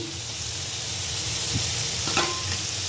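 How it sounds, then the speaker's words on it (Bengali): Chopped tomatoes and masala frying in a pan, an even close sizzle with a couple of brief stirring scrapes near the end and no speech. "তো এই টমেটো কুচিগুলো দিয়ে দিতেছি।"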